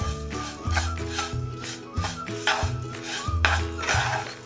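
Fresh amla pieces being stirred with sugar and salt in a bowl for pickle, a spoon scraping and clinking against the dish in a steady repeated rhythm, close up with no talk.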